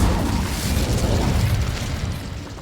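Incendio fire spell blasting in Hogwarts Legacy, a loud, dense burst of rushing flame and low rumble that holds steady for a few seconds before easing slightly, with no talking.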